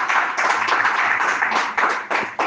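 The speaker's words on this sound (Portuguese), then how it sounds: "Com palmas bem fortes para Jesus" A church congregation claps hands loudly and steadily during worship, a dense and close wash of clapping that ends with a few brief dips near the close.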